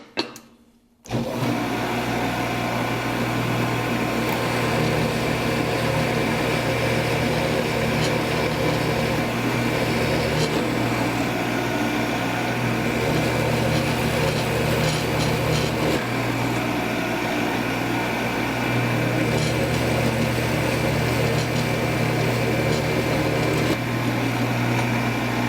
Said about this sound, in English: let's drill a few more holes with a real brad point drill bit